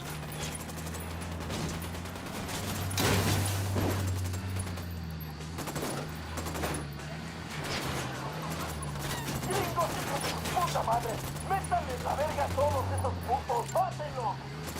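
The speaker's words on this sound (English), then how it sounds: "Opening fire on these fuckers." Gunfire in the video game Ghost Recon Wildlands, with scattered shots and bursts at moderate distance under a steady low engine drone, with voices talking over it.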